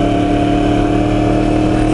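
A Yamaha R1 sport bike with a decat exhaust runs at a steady, loud, close engine drone with a constant tone throughout, without any voices.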